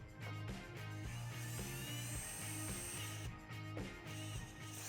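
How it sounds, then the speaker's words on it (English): A power drill bores a 3 mm hole into a Sachs 48mm open cartridge fork, making a steady, close, loud whine that runs for several seconds with brief dips and restarts in the pitch, and no talking. "we're going to drill that out to 3 millimeters."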